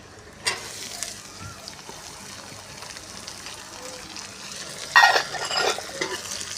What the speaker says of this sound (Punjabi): ਪਿਆਜ਼ਾਂ ਨੂੰ ਭੁੰਨਾਂਗੇ